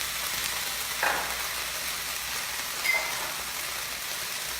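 Scallops pan-searing in a hot pan, a steady close hiss of sizzling oil with two brief louder crackles, no voices.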